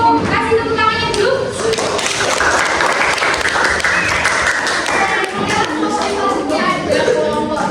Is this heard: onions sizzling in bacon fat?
no